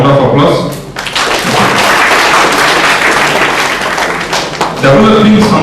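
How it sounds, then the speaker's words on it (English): Applause from an audience at a mechanical engineering guest lecture fills the room for several seconds, a dense, steady wash of clapping mixed with some voices and thuds. "Can someone give him a round of applause?"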